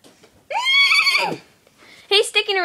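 A voice imitates a horse neigh during Barbie play, a long whinnying cry close to the microphone, followed by a shorter second neigh after a pause.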